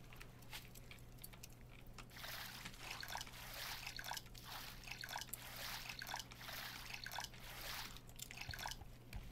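Fresh water trickling and dripping while being collected in the survival game Raft, a steady close liquid patter that runs throughout under a low constant hum.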